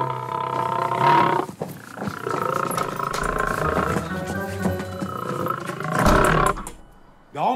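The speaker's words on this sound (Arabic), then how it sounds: "وحضرتك مش ده اسد برضه؟" A lion kept in a flat roars loudly and close, long rumbling roars repeated with brief pauses, alone without talk.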